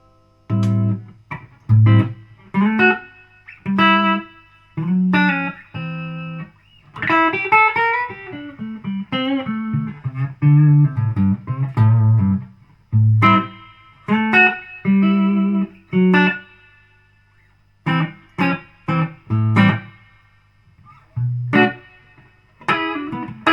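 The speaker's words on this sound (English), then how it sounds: "That's a much nicer reverb tank, but that one works." Guitar notes played through a 1990s Fender Twin amplifier, each plucked phrase trailing off with a metallic, splashy spring reverb wash from a nondescript replacement reverb tank; no talking.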